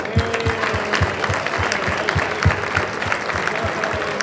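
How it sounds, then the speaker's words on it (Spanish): Seniors celebrating Día del Mayor at a fair lunch give a loud, sustained round of applause, dense crowd clapping with a steady rhythmic beat running throughout. "felicitaros a todas y a todos en este Día del Mayor con este aplauso"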